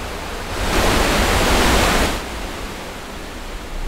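A steady broadband rush of a waterfall, swelling louder for about a second and a half in the middle before settling back to a constant roar, with no voices.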